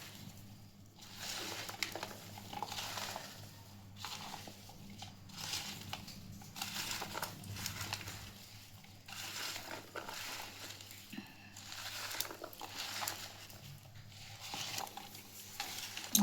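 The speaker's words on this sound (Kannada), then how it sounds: "ಈ ರೀತಿ ಕಲಿಸ್ಕೊಳ್ಳೋಣ ಉಪ್ಪು ಹಾಕ್ಕೊಂಡು" Raw mango pieces are mixed and stirred with salt by hand for a pickle, producing close, soft, irregular wet crunching and rustling in repeated bursts, fairly quiet throughout.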